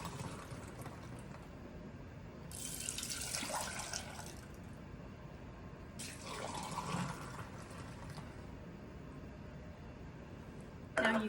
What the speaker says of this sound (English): Every time you pour it, it gets frothier and frothier.